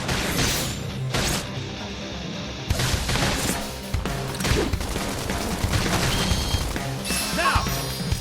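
Rapid bursts of gunfire in Xenoblade Chronicles X crackle and crash in dense volleys with heavy impacts, loud and nearly continuous throughout.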